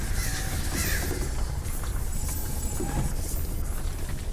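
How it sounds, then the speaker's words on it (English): Crows caw in the God of War game, several harsh calls scattered over a steady, dense ambient background, with no talking. "Bye, crows."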